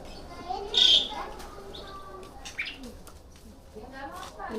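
Caged birds at a bird market in Malang, Indonesia give short chirps and a bright whistle-like call over a low murmur of voices and market background, fairly faint.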